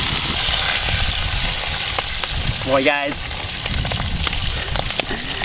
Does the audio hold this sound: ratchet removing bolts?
no